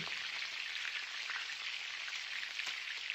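Steady, fairly soft sizzle of green chillies and asafoetida frying in oil in a pan, an even hiss with a few faint pops and ticks, no voices.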